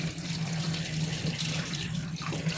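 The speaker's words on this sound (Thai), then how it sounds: "วันนี้เรามาสอนล้างอางุ่นกันนะคะ" Tap water runs steadily into a sink as grapes are rinsed, a continuous close splashing hiss with a low hum underneath and no pauses.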